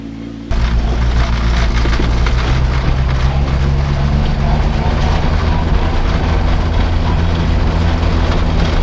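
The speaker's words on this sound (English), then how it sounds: "it is mega windy and it has been all night" Strong wind roars steadily into the microphone, a loud continuous rumble that starts abruptly and stays constant without letting up.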